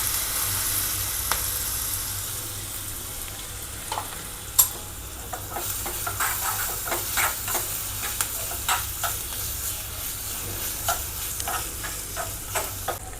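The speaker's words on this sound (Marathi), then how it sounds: "थोडीशी जिरे टाकायचे, हिंग घालायचे आपल्याला, कढीपत्ता टाकायचा आणि हे आपल्याला वाटण घालायचं" A tempering of cumin seeds, asafoetida, curry leaves and chilli paste sizzles in hot oil, a steady crackling hiss punctuated by sharp pops and spoon clicks as it is stirred, with no talking.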